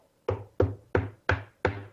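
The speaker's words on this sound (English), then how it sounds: "I hear the noise at the door" Five firm knocks on a door in a steady, evenly spaced rhythm, close and loud, each landing as a hollow thud with a quick decay, with no voices.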